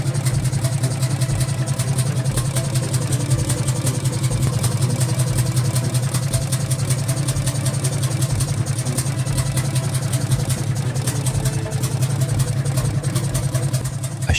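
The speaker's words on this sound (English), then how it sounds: "A sharp, cracking exhaust burst erupted from the engine, locked into its power cycle" A 27-litre Rolls-Royce tank engine runs steadily at close range, a loud, dense, rapid pulsing drone with a strong low throb and crackling exhaust texture, unbroken and without talk.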